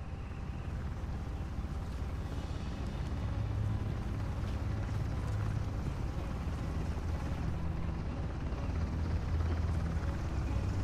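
A helicopter in the video game Uncharted: The Lost Legacy drones with a steady low rotor rumble, constant and fairly loud throughout, with no one speaking over it.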